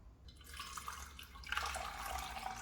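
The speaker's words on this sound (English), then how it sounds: "you just need to pour some water into the main water tank" Water pours steadily into the water tank of a Vmai V8 Pro wet-dry vacuum mop, a close splashing trickle that briefly pauses and then resumes fuller and louder.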